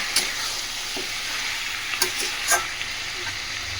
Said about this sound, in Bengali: দিয়ে মটনটা এবার খুব ভালোভাবে কিন্তু ভেজে নেব